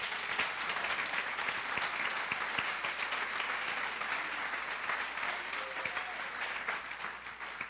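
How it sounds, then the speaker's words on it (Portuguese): A church congregation applauding during a sermon, sustained dense clapping from many hands heard from a moderate distance, steady and even throughout with no speech over it. "Pode dar uma salva de palmas ao Senhor?"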